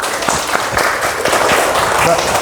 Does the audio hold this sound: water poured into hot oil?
no